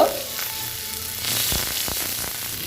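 Panch phoron, dried red chillies and ginger paste hit hot oil for a vegetarian dish, giving a steady close sizzle with a few soft clinks and taps over it.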